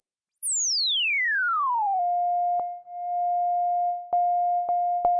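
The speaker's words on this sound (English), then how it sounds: "We can get a tone even though we don't have any oscillators running through this filter." A self-oscillating resonant filter on the Ableton Drift synth sweeps down from a piercing high whistle to a steady pure sine tone. The tone holds alone, broken by a few faint clicks.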